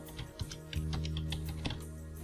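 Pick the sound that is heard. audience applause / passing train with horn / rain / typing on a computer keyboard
typing on a computer keyboard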